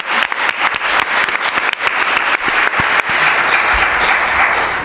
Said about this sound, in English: can we just give a round of applause to Rob Robinson to acknowledge his work and efforts for this